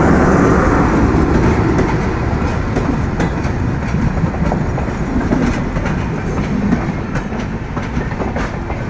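A long passenger train pulling out of Joydebpur station toward Rajshahi rumbles loudly and steadily with rhythmic clickety-clack of wheels on the rails, heard close up throughout.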